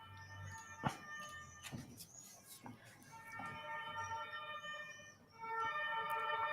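A distant emergency vehicle siren wails with rising and falling tones, faint at first and growing somewhat louder toward the end, with occasional background clicks and voices.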